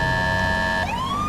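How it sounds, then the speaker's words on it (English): A MasterCom B police siren on a GTA 5 patrol car sounds a sustained electronic tone, then sweeps sharply upward into a rising wail, loud and close with no talking. "So now I can kind of showcase the whole sirens that I have, or all the sirens for MasterCom B."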